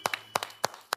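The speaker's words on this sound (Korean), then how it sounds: "야, 박수 한번 주세요." A few distinct handclaps from a studio audience on a Korean history variety show, four sharp claps spaced irregularly across a single second, close and fairly loud with no talk.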